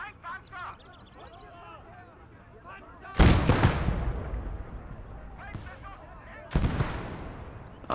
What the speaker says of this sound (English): Oh, he hit a mine.